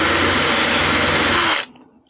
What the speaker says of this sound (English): So what we're going to do is drill a pilot hole